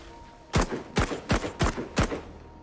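Gunfire aimed at a robot in the video game Memories of Mars: five loud, sharp shots ring out one after another in a steady, evenly spaced rhythm, each with a short decay, and no voices are heard.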